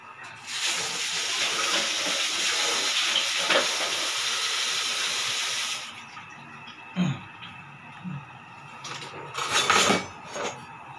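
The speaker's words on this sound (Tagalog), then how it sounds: "Itutubog lang natin sa kumukulo ng tubig." Pot of water at a rolling boil for blanching pako fern leaves, a loud steady hiss and roil that cuts off partway, then a few clinks and handling noises, close by.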